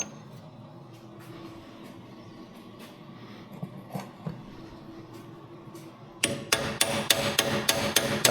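A wheel bearing race on a Peugeot 508 rear wheel being tapped into place with a socket, quiet scraping at first, then a rapid series of sharp, loud metallic hammer blows close by.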